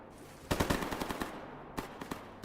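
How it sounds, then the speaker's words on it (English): Bursts of army gunfire in the STALKER Gamma video game: rapid clusters of close, sharp shots cracking in quick succession, a pause, then more scattered shots, with no talking over it. "There's a whole huge gunfire going on right now."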